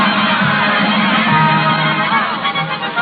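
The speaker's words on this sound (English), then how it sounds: "he listens to the cheers of the crowd" A circus crowd in a 1936 radio drama cheers and whoops for a clown in full costume, a dense, loud, muffled roar of many voices that holds steady and then wavers slightly.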